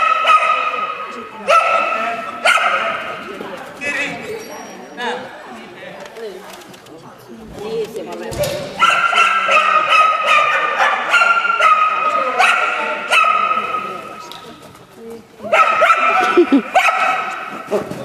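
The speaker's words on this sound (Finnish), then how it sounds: "Nyt se haukkuu koko loppumatka." A dog barks repeatedly and loudly nearby in yipping bursts outdoors during a dog-sport run, mixed with birdsong and people talking.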